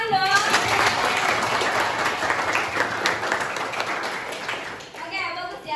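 A classroom of students claps together in a lively burst of applause, fairly close, with scattered children's voices mixed in before it tapers off.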